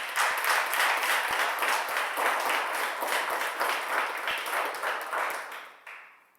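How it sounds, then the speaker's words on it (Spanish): A church congregation applauding during a Spanish-language service, a full, steady roar of clapping with a few sharper claps standing out, tapering off in the final second. "Denle al Señor un aplauso"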